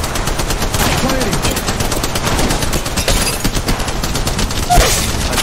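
Rapid automatic gunfire in a sci-fi combat video game, dense continuous bursts of shots over a dull rumble, with a brief voice murmuring underneath.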